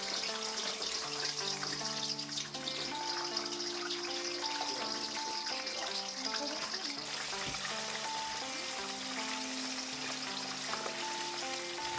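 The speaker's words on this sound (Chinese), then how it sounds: "炒锅里放入油加热，先慢慢的放入一根长扁豆" Long beans frying in hot oil in a wok on a farm in Kushiro, Hokkaido, giving a steady, close, continuous sizzle and crackle with faint background tones throughout.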